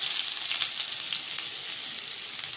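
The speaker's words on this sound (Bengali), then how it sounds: "এখন আমি আগে পেঁয়াজটা তুলে দেবো" Onion sizzles as it fries in hot oil for a Bengali masoor dal with jute leaves, a steady bright crackling hiss with small pops, close and continuous throughout.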